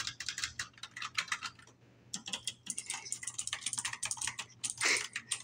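Rapid, crisp clicking of keys on a new computer keyboard, typed in close bursts with a brief pause partway through; no speech.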